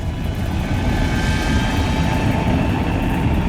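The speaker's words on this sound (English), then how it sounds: "That sound was the tornado bearing down on the Cottom's duplex" A loud, continuous roar of a tornado bearing down on a duplex, like a jet engine, fills the air, broad and rushing without pause.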